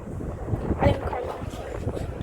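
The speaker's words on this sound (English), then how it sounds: "right now the wind blowing" Wind gusts roar steadily across an outdoor microphone at a gas station while a car is being refueled, a broad constant rumble with one stronger buffet near the middle and no clear speech over it.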